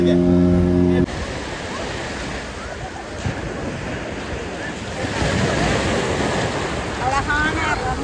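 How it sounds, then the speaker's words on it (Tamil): Ocean waves washing ashore at Kovalam beach in Kerala, a steady, loud rush of surf with wind buffeting the microphone and swells rising and falling. "அழகான ரம்யமான அலைகள் கால்களை தவழ்ந்து வருகிறது. இதுதான் கோவளம் பீச்."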